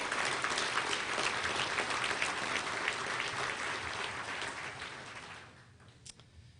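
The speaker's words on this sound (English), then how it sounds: "Let's give them a round of applause," A luncheon crowd at the Little Rock Touchdown Club breaks into warm, sustained applause that holds strongly for several seconds, then thins and fades out, leaving a few last claps.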